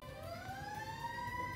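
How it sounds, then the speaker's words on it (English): A siren passes outside, its wailing tone rising slowly and holding steady, heard at moderate distance over a constant low rumble of background noise. "Uh-oh, siren."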